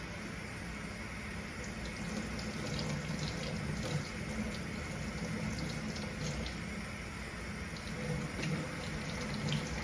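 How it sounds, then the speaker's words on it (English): Running tap water during surgical-style hand and arm rinsing, a steady close hiss of flowing water with faint splashing, continuous throughout without talk. "Now we need to rinse again, not touching anything, rinsing fingertips down proximal to the elbows at the wrist."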